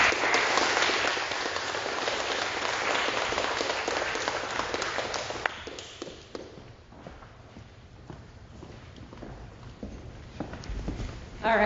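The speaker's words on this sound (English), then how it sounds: "let's give our graduate fellows another round of applause" An audience applauds after graduate research fellows' presentations, a dense burst of clapping that thins out after about five seconds into scattered claps and soft room noise.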